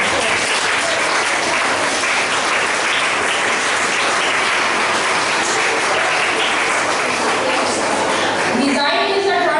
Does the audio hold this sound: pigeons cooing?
no